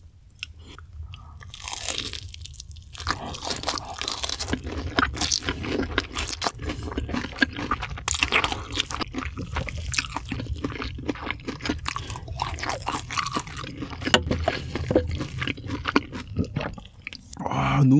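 Loud, crunchy chewing of crispy fried chicken close to the mic, with repeated crackling bites and scraping sounds throughout.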